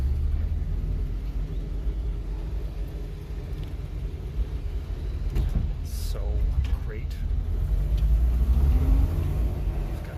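A 1950s car's engine runs steadily while driving, a low continuous rumble that swells slightly as it pulls, with someone talking briefly over it.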